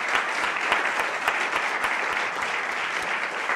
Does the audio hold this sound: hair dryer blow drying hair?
no